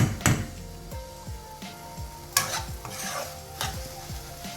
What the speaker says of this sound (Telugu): దీన్ని మీడియం సెగ మీద ఒక 5 minutes వేయి